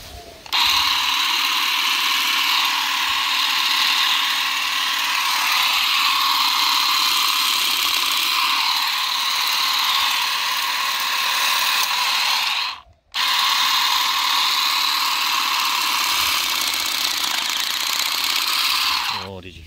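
Ryobi ONE+ cordless grass shears (RGS18X15 shrubber kit) buzz steadily with a harsh mechanical rattle, straining under load, cutting out briefly near the end before restarting, with a voice speaking faintly beneath.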